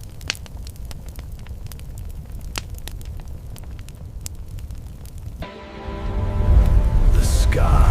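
A campfire crackles with sharp irregular pops and snaps over a low rumbling bed, then gives way to a louder deep roaring swell near the end.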